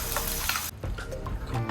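Tomato puree goes into a hot pan; a bright, loud sizzle cuts off abruptly into a softer, bubbling hiss with a few small pops.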